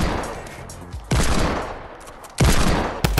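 Video game gunfire comes in loud, close bursts, each a dense rattling volley that decays slowly, with three separate bursts in quick succession.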